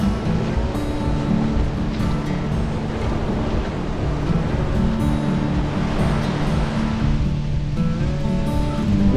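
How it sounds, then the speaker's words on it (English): Ocean waves roll onto Bellows Field Beach on Oahu, a steady, loud, continuous surf wash with wind buffeting the microphone throughout and no voices. "And the waves are great for boogie boarding."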